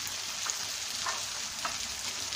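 Capsicum fries in hot oil with a dense, constant sizzle, broken by a few soft scrapes of stirring in the pan, up close and without any talking.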